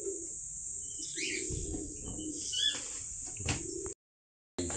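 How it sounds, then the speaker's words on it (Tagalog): Racing pigeons coo in soft repeated bursts close by, with chirps and faint bird calls over a steady high hiss, then a sudden brief silence at the end. "ito na yung mga ibon namin"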